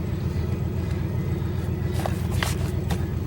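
A modified Delta 88 cruising in GTA 5 gives off a steady, low engine rumble that drones evenly throughout, with a few faint clicks above it.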